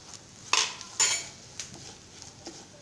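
A utensil stirs tomato sauce into chicken fried rice in a pan, giving a couple of sharp metallic scrapes and clinks early on, then quieter scattered taps over a faint background hiss.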